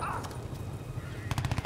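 Gunfire from a pistol in the shooter game Crysis 2: a faint quick shot near the start, then a tight burst of several rapid shots at the end.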